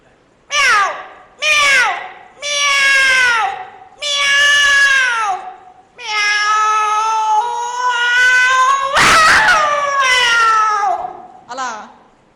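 A voice imitates cats fighting: loud, close yowls and drawn-out wailing meows, one after another, rising and falling in pitch.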